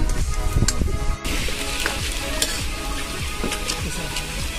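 Onions and oil frying in a pan during outdoor cooking at a farm in Siddipet, a steady close sizzle with crackling and stirring clatter running throughout, with no voices over it.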